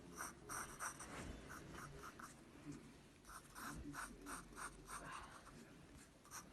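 A pencil scratches lines across paper in quick, rhythmic strokes, close and quiet, with short pauses between bursts of drawing.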